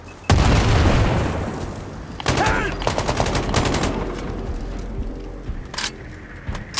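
An AK rifle fires in a video game alongside a frag grenade blast, with a sharp heavy boom up front followed by dense, loud bursts of rapid gunfire and scattered shots.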